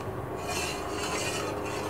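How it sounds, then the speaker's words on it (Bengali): Boiling milk in a pot, being made into chhena, is stirred continuously, giving a soft steady scraping and swishing of a utensil against the pot with faint bubbling underneath. "অনবরত নাড়তে হবে, দুধে সর পড়তে দেওয়া যাবে না"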